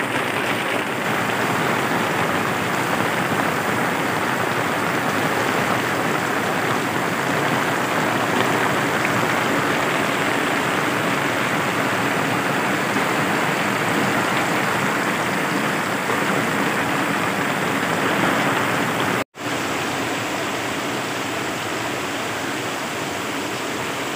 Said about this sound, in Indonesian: ini malah hujan gede teman-teman ya jadi aduh ini malah terhalang sama cuaca